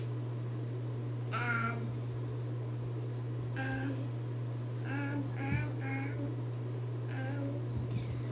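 A child imitates a crow, giving five short, nasal caws spaced a second or two apart over a steady low electrical hum.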